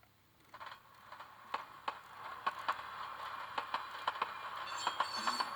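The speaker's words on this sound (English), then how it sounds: "You'll hear the air bleed off." A Soundtraxx sound decoder in an Athearn model boxcar gives a soft, faint hiss of air bleeding off, peppered with small rapid clicks and ticks in an irregular rhythm.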